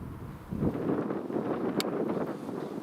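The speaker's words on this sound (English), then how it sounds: "It's a little bit breezy, you get odd gusts in that, Nick," Breezy wind at Carlisle Airport, with odd gusts buffeting the microphone in a low steady rush that swells after the first half second.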